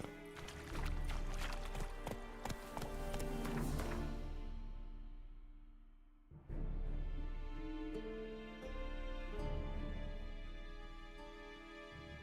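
Roach the horse galloping in The Witcher 3, rapid hoofbeats pounding under a dense music bed, continuing steadily with a brief dip midway before surging again.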